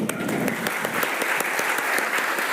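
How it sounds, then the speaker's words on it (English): Audience at a politics conference clapping together in a steady, fairly loud and even rhythm, a close continuous burst of many hands with no voices over it. "The first step is to clap."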